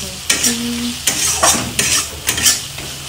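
Chopped tomato with turmeric, coriander, Kashmiri chili powder, salt and cumin powder frying in a pan, stirred in repeated scraping strokes over a loud, steady sizzle, close up.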